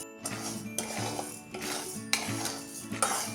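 Sugar with a quarter spoon of ghee being stirred to caramelize in a pan for carrot-vermicelli kheer, a spoon scraping and clinking against the metal in repeated strokes, fairly close and steady, with no voices.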